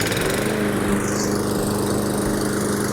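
A SENIX 22-inch self-propelled gas lawn mower with a 163cc engine runs steadily after being pull-started, a loud, close, continuous engine drone with no talk.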